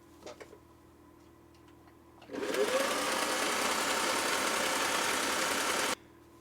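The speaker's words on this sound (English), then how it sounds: "I'm going to start sewing." Singer Touch & Sew machine running a steady zigzag stitch for about three and a half seconds, close and even, preceded by a few soft clicks.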